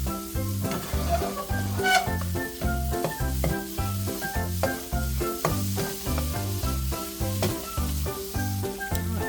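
Egg fries with cheese in a pan for a chicken taco breakfast, a close, steady sizzle with soft stirring taps under a repeating background music beat.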